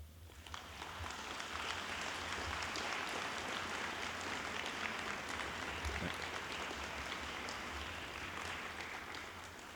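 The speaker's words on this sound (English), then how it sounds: "I invite you to express your appreciation to your loved ones with a round of applause." A large audience at a Class of 2019 commencement ceremony applauds, a steady wash of many hands clapping at a distance that holds for about ten seconds before easing slightly at the end.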